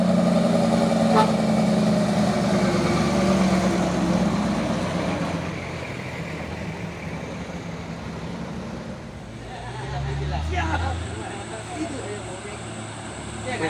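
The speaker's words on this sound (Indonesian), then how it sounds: "Truk sawit." A palm oil truck rolls past on a road, its engine and tyre noise swelling and fading over a few seconds while people talk over it.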